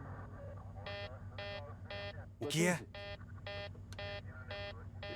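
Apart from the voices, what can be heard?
cockpit cabin pressurization warning alarm on Helios 522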